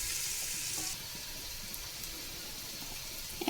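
Onions frying in a pan, cooking down until reddish-brown; a steady close-up sizzle runs throughout, louder in the first second, then settling to an even crackling hiss.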